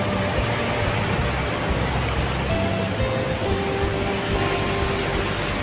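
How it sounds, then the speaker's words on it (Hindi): Steady road traffic hum on a hill road in Azad Kashmir, a continuous broadband wash of passing vehicles with faint tonal whines drifting through, no clear single pass-by standing out. "रोड के ऊपर ट्रैफिक चल रही है"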